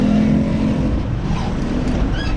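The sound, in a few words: traffic jam with cars and motorbikes on road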